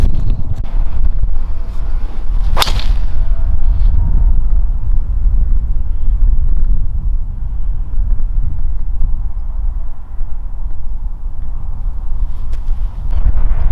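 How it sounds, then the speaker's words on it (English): Wind buffets the microphone on a desert golf course with cacti, a loud low rumble lasting throughout, with a brief sharp knock early on and no talk. "A bit of a hurting wind from the right."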